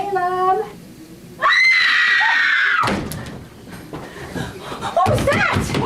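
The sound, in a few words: scream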